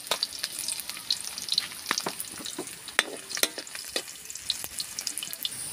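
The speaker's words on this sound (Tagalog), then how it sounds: "magigisa na tayo. Sabay natin yung bawang at saka luya." Garlic and ginger sautéing in a pan for tambakol tuna, a busy, close sizzle with frequent stirring clatter and sharp ticks throughout, no talking.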